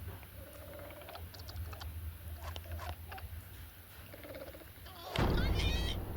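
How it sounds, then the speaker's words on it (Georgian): A dropped stone lands with a sudden, heavy thud in the animated series Avatar: The Last Airbender. Light tapping clicks come first, then a loud, close impact followed by a rumbling sustain to the end. "ქვა რომ დააგდო, მაგის გამო იყო ხმა"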